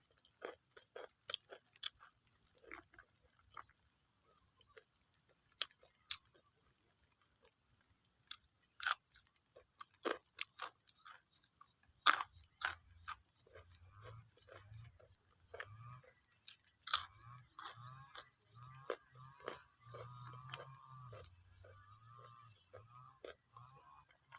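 Someone chews crunchy dried, crisp-baked fruit close up and quietly: scattered sharp crunchy bites come first, then a steadier run of softer chewing, with no talking.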